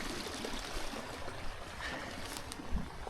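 A stream of floodwater flows beneath a countryside footpath in Sussex, a continuous close trickle and babble with small splashy peaks, steady and unbroken, with no talking.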